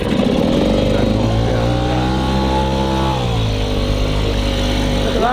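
A tiny speedboat's main engine revs up loud and close as the boat pulls away, a steady harmonic drone that rises and dips in pitch before settling into a sustained run.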